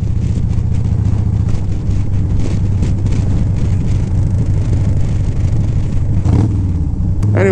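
A Harley-Davidson FXR motorcycle engine pulls steadily on a ride, loud and close with a deep throbbing rumble, wind roar over it and a brief rise in revs near the end.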